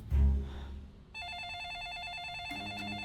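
A telephone rings with a steady electronic warble, following a brief low thump, loud and close with no voices.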